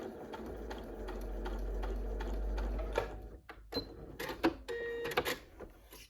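Domestic sewing machine running a straight stitch along a quilt's stitch guide, a steady whirring hum for about three seconds, then stopping into scattered clicks and handling noises, fairly quiet with no talk.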